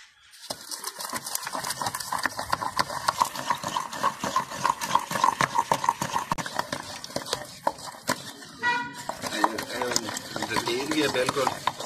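Fresh mint leaves are rubbed and ground by hand with a little boiled water, a steady scraping, stirring rasp running through nearly the whole stretch, close and fairly loud, with a brief clatter near the end.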